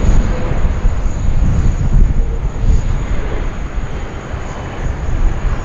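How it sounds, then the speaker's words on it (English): An Emirates SkyCargo Boeing 777 freighter arrives at Sydney Airport with a loud, continuous broadband jet roar, rumbling in the low end and buffeted by gusty wind noise on the microphone. "Emirates Skycargo 7 coming in from Dubai via Singapore, and then will later depart to Hong Kong"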